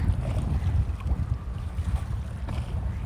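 A ship passes by on open water in strong wind, its low engine rumble steady under buffeting gusts and faint wave wash, fairly close and without talk.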